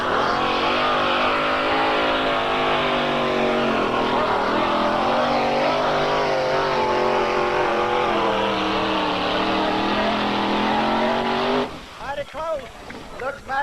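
A pulling truck with a roughly 1,400–1,800 horsepower Aries aluminum engine roars at full throttle at the 1993 Chapel Hill Super Pull of the South. The loud, sustained howl cuts off abruptly near the end, leaving an announcer talking.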